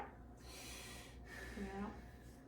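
A patient takes deep breaths during lung auscultation in a nursing assessment, with soft broadband inhale and exhale noise, close and quiet, and a brief voice in the middle.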